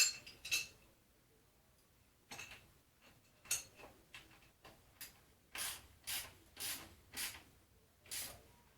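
A ratchet tightens the front fork of a 1981 Suzuki GS850G motorcycle, giving sharp, close clicking bursts in an uneven rhythm with short gaps between strokes.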